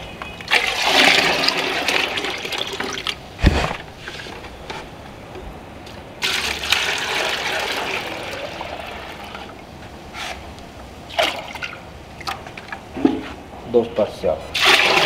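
Water poured into a container of wall sealer being mixed at one part sealer to two parts water, a steady gushing pour that runs for stretches and pauses, close by, with someone talking over it.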